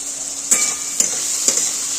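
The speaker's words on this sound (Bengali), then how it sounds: "এইটা আগে ভালো মতো আমি ভেজে নেবো মশলাটা" A spice paste with chili and turmeric powder fries in a pan with a bright, even sizzle, while a spoon scrapes through it in three evenly spaced stirs. There is no talk.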